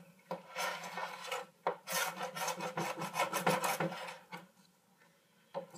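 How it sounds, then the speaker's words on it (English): Wax being scraped off a surfboard with the flat edge of a comb: a close series of gritty, rasping strokes in an uneven rhythm, some louder than others, with no talking. "take the flat edge of the comb. You're just gonna want to scrape off the wax, just like that."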